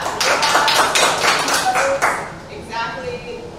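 Improv comedy audience snapping fingers in a crowded venue, a dense patter of sharp clicks that thins out while voices talk over it toward the end.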